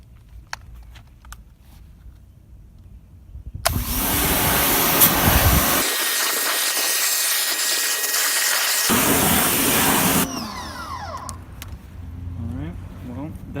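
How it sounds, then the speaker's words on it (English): A pressure washer sprays a car wheel, a loud steady hissing blast that runs for several seconds, briefly changes and then cuts off, with someone talking before and after. "got the pressure washer, nothing too special"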